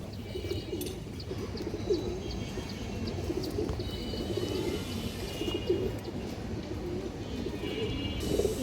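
Pigeons coo steadily at a pigeon farm where red-geared breeds are kept, a low continuous murmur of many birds close by, with occasional chirps and faint rustling throughout.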